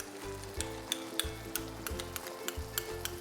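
Mint paste ground with coriander, green chilli and garlic is added and stirred into a hot pan for mint rice, giving steady close sizzling broken by repeated sharp spoon scrapes and taps.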